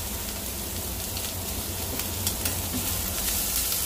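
Chopped garlic sizzling and frying in oil in a pan while tomato spaghetti is being cooked, with a steady, dense crackle and scraping stir strokes close up, no voices.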